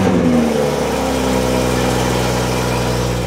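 A BMW M340i with its exhaust valves open gives a loud, steady rumble close by, a brief rev settling into a sustained throaty drone.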